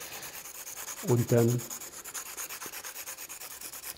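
A pencil being sharpened on a block of sandpaper sheets produces soft, regular rubbing strokes throughout, with a voice speaking briefly partway through.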